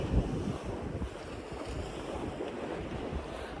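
Ocean surf washes steadily at the seashore while wind buffets the microphone, making a continuous broad rush with no voices.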